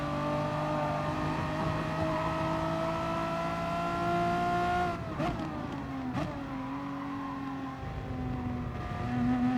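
A Renault Megane Trophy race car in Gran Turismo Sport howls at high revs on Lago Maggiore East Reverse, the engine note holding steady, then dropping sharply through quick gear changes before building again, loud and close.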